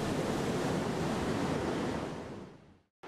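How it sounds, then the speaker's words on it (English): Ocean surf spurts white water through a basalt blowhole on Norfolk Island on a fairly calm day: a loud, steady, broadband roar of rushing water that fades and cuts out briefly near the end. "That's spurting quite a lot of white water, eh?"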